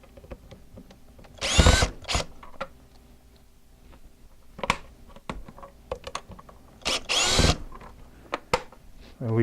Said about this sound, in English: So what we'll do is take the other screws out using the screw gun.